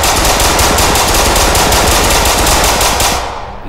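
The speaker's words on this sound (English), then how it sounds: "The gunshot stop." Loud, continuous rapid gunfire from the Roblox game South Bronx The Trenches fills the clip in a dense, unbroken burst and then tails off at the very end, with no voices.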